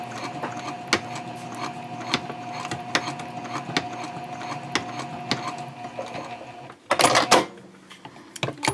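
A sewing machine stitches up the second side of a City Messenger Bag, a steady mechanical whir with regular clicks, ending in a louder, busier burst near the end.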